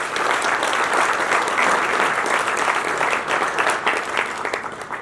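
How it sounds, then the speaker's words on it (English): A crowd at a mentoring organization's ribbon-cutting event gives a round of applause, loud and close, with continuous dense clapping that lasts throughout and eases slightly at the end. "Can we get them a round of applause?"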